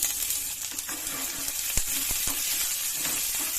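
Chopped onions dropped into hot oil with garlic and curry leaves for tomato chutney, giving a steady close sizzle with a few sharp clinks and crackles, no voices.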